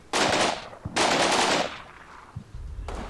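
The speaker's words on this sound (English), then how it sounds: "they've started shooting at their own" Automatic gunfire from units in a war strategy video game with trench lines: two long, loud bursts of rapid fire separated by a short pause, a lull, then a fresh burst starting near the end.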